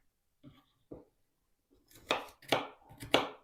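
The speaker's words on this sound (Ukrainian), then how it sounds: "Нарізаю її дрібненьким кубиком." A knife dices potatoes on a cutting board: two soft taps, then three louder, crisp cuts in quick succession, close and without speech.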